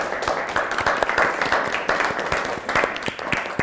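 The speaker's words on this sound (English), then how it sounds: "So a big clap for you as well" Audience applause for volunteers at a community roundtable meeting, with close, brisk and fairly loud clapping from a modest crowd that stays steady throughout.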